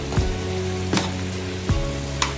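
Halwa burelu, sweet maida-flour dumplings, frying in hot oil, with a steady close sizzle and a few brief crackling bursts.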